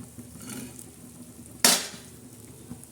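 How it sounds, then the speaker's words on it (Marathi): Egg bhurji with onion, green chillies, tomato and coriander fries in a pan, a soft continuous sizzle broken by one sharp, loud hiss and scrape partway through. "आता ही एका साईडने मस्तपैकी अशी भाजत आहे"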